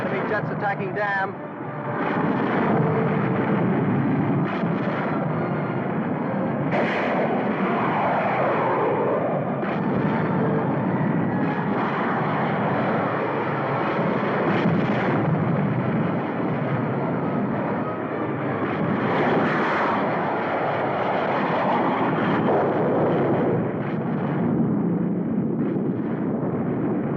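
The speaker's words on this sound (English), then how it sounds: "Enemy jets attacking dam." Enemy jet aircraft attacking a dam in a 1952 war film: a loud, continuous roar of engines and explosive rumble fills the whole stretch, with a voice speaking over the din.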